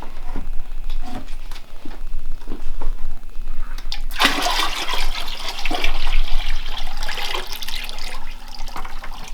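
Sugar water pours into muscadine juice for homemade wine, a sudden rushing splash of liquid into a container that starts abruptly and continues steadily, loud and close, after a few light clunks of handling.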